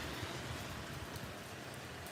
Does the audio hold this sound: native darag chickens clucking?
no